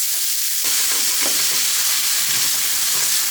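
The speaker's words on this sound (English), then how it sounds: "Now I'm gonna cook my onions and my peppers just for a couple of" Onions and peppers fry in a pan with a loud, continuous sizzle and hiss that holds steady throughout, close up and with no voices.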